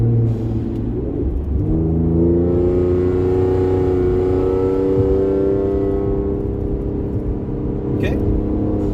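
Ford Explorer engine held in manual mode, droning and rising in pitch as it revs steadily between shifts, close and continuous inside the cabin.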